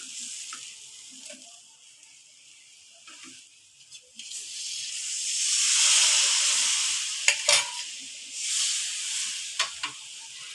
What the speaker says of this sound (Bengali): ঝোলটা আমাদের ফুটে গেছে